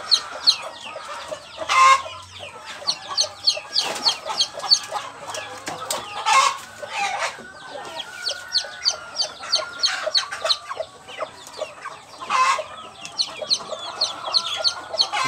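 Hens and chickens cluck busily at feeding time, a close, continuous chorus of overlapping clucks and squawks with occasional louder calls and no talking.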